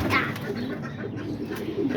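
Pigeons coo softly and repeatedly while they eat, over a busy low background, with faint murmuring voices nearby.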